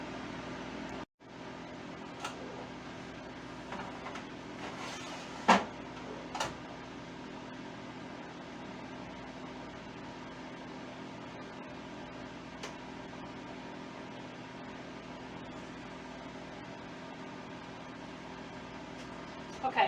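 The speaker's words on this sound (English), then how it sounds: "I put the peppers in my little bitty air fryer multi-oven. I've got it on convection bake at around 400 degrees" A small air fryer multi-oven runs on convection bake at around 400 degrees, giving a steady fan hum and whir close by with a few faint clicks and knocks over it.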